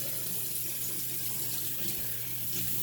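Water running steadily from a tap into a sink during rinsing, a continuous close hiss with a low background hum and no talk.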